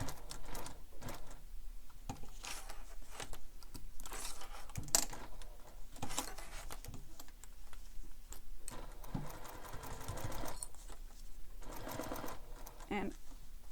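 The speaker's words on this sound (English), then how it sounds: "you're stitching through all the layers except for A" A sewing machine stitches through the layers of a bag, a quiet, steady mechanical whir with light rhythmic ticking that runs almost continuously, briefly pausing and restarting, under faint talk.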